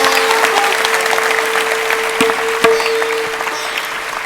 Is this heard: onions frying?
no